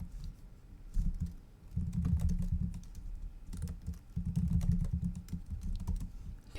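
A password is typed on a computer keyboard in two close bursts of rapid, crisp key clicks, with a brief pause between them and no speech.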